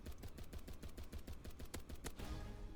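Rapid automatic gunfire in the Roblox game Hypershot rattles in a fast, steady burst of sharp shots, loud and close, with a final few heavier blasts.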